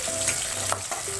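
Rohu fish pieces frying in hot oil: a brief, steady sizzle with a few soft clinks, close and unaccompanied by speech.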